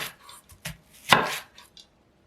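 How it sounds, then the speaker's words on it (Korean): A knife cutting an onion into quarters on a board, a few separate close chops with one sharp, louder cut in the middle, then quiet. "양파는 4조각으로 잘라주었어요"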